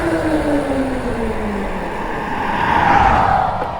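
An e-bike braking hard from speed, a falling motor whine sliding down in pitch as it slows, with steady wind and road noise throughout; a brief higher squeal rises near the end.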